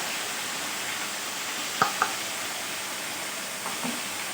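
Onion paste added to hot oil already tempered with black cumin sets off a steady, loud hiss of frying, with a couple of sharp spoon clinks against the pan partway through.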